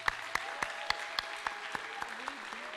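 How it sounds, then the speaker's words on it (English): Applause for pageant contestants at a Dartmouth stage show, a steady wash of clapping from an audience with sharp individual claps standing out at regular intervals throughout. "Let's give one last round of applause to all of our contestants."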